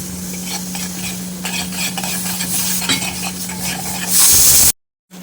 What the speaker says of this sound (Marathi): आता तेल सुटेपर्यंत हा मसाला पूर्ण मिक्स करून घ्यायचा